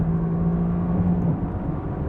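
A Mercedes-AMG GT R accelerating hard in a rolling race against a Nissan GT-R. Its engine gives a steady, loud, sustained drone with no voices over it.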